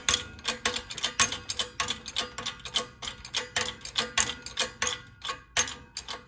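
A ratcheting handle is cranked down while reassembling a Curtis air compressor, giving a steady run of quick mechanical clicks in even rhythm, close up and alone.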